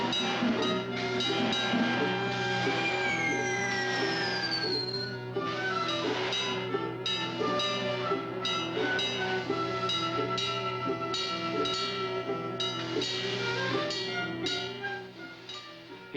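A steam train, the iron horse of the Union Pacific, runs on rails. A steady rumble with rhythmic clatter and tonal whistle-like lines continues loud and unbroken for the whole stretch, with a falling pitch sweep partway through.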